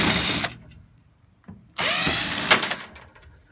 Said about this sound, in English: So with a screwdriver, there's two screws holding this one on.